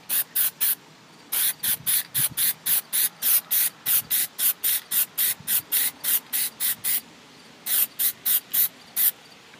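Plasti Dip spray can laying a fourth coat onto a Nissan Titan truck badge: a quick rhythmic series of short, sharp hissing bursts with brief gaps, one longer pause near the end, close and loud.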